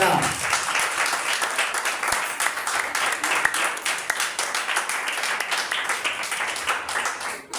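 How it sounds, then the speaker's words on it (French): A church congregation cheers and applauds, loud dense clapping with crowd voices, sustained at steady strength nearly to the end. "Je n'ai pas bien entendu vos acclamations."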